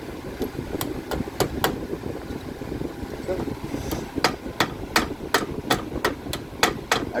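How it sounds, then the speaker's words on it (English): Sharp metallic hammer taps on a punch driving out rear brake pad pins on a 2012 Mercedes CLS AMG, a quick burst of strikes, a pause, then a longer series of evenly spaced blows over faint background hum. "I got this big hammer"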